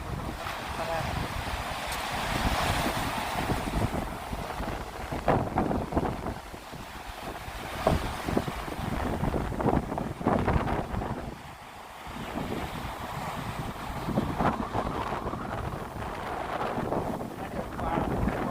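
Strong wind buffets the microphone on a rocky seashore while waves surge and crash against the rocks, a loud, rushing wash that swells and eases in uneven pulses throughout.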